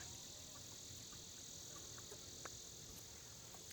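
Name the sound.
bugs buzzing and bumping around the speaker's head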